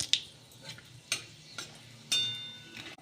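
Dry red chillies, cinnamon and cloves tempered in hot oil for butter paneer, a low sizzle punctuated by several sharp metallic spoon clinks and stirring scrapes, close up with no talk.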